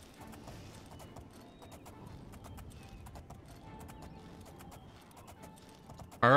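Rhythmic clip-clop of horse hooves at a steady trot in the video game Oblivion, with faint creaks and mechanical clicks, ending in a sudden loud burst.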